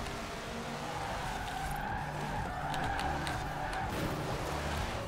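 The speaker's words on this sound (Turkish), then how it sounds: "Arabam çok kayıyor." A car skidding and sliding in Forza Horizon 4, with continuous tire squeal over a steady engine roar, close and sustained throughout, with no talk.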